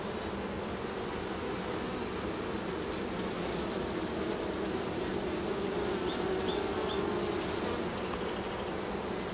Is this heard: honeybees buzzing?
yes